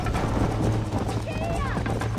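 A horse gallops in the Western video game Red Dead Redemption, its hoofbeats a quick, continuous clip-clop. A voice talks over the running steps, and game sounds sit in the background.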